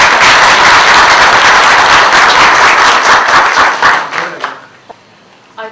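Audience applause at a seminar in The Hague, loud dense clapping from the room that holds steady, then thins out and dies away into a few last scattered claps.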